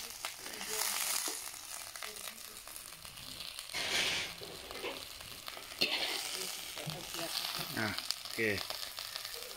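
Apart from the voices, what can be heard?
dry-roasting June beetles in a pan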